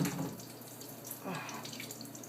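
A weak, thin stream of water runs from a hotel sink tap at Hotel Azura, a quiet steady trickle with a slight swell of splashing partway through.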